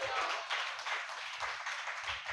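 A church congregation claps loudly together in a continuous, dense ripple of many hands, heard from a distance with low murmurs underneath.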